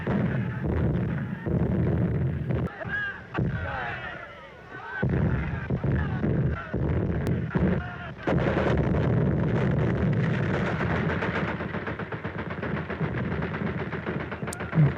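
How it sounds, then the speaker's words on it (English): Machine gun fire rattles through a 1930 war film, dense rapid bursts and battle noise filling the scene loudly, with brief lulls and voices mixed in. "A machine gun."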